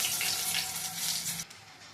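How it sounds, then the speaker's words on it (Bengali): Whole spices tempering in hot oil for a papaya dal, giving a loud, steady, hissing sizzle that stops abruptly near the end and leaves a quieter tail. "তেলটা আর একটু গরম হচ্ছে, ফোড়নটা ভাজতে একটু দেরি হচ্ছে।"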